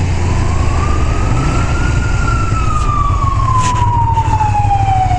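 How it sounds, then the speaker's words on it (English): A loud emergency siren wails steadily, its pitch slowly rising then falling, over a constant low engine rumble nearby. "Oh, there are the sirens."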